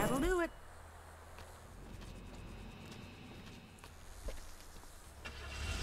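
In the Gas Station Simulator video game, a customer's car starts up and drives away with a low, steady engine rumble. A voice briefly speaks at the start.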